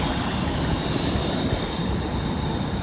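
A squeaky serpentine belt on a Jeep Grand Cherokee's AC compressor, fitted with a brand new belt, squeals steadily over the running engine, loud and close, with no speech.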